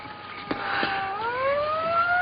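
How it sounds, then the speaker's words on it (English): A siren wails steadily, its pitch sliding upward and holding, heard at moderate distance with a couple of soft thumps early on. "Hey, a police car."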